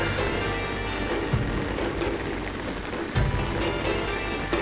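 Heavy rain falls on a spring morning in Sylhet, a steady dense hiss of drops on surfaces throughout with a few soft knocks, no voices.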